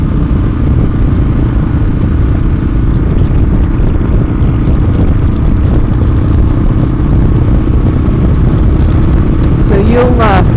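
A motorcycle's engine drones steadily throughout a ride, loud and close with constant road and wind rumble, and a brief higher chirp near the end.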